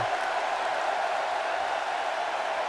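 A wrestling arena crowd in the WWE 2K19 video game, Universe Mode RAW, roars in a continuous, dense wash of cheering and applause that holds steady throughout at moderate loudness.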